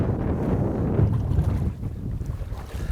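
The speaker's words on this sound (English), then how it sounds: "See, it's so windy here when it's windy" Strong wind buffets the microphone with a continuous low rumble and gusty roar, no voices, sounding close and outdoors.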